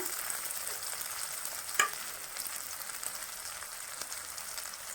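Ground spice pastes fry in a pan for egg gravy, a steady soft sizzle with one brief clack of a utensil, no voices.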